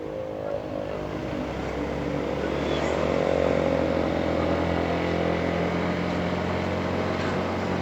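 A motorcycle engine held at full throttle on a night ride drones loud and steady, its pitch climbing slightly as it revs, close and without talk.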